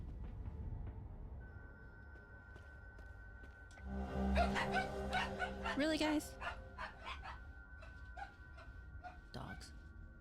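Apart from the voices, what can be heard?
dogs barking in the video game Hell is Us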